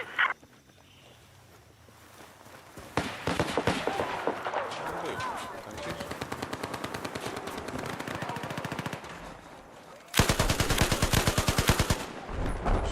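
Automatic weapon fire in Battlefield 4, loud rattling bursts from close by that repeat over long stretches and break off and resume, with a voice talking over them.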